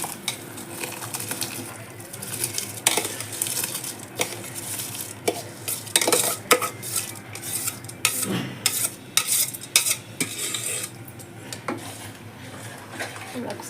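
Washed rice is stirred into a tamarind mixture in a metal pot, producing irregular spoon clanks, scrapes and wet shuffling with a faint sizzle beneath, close and busy for over ten seconds.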